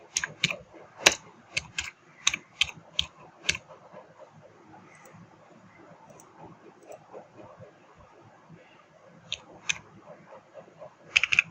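Text typed on a computer keyboard for a Canva Instagram story design, bursts of crisp key clicks in quick clusters with quiet gaps between, close up, with no talk over them.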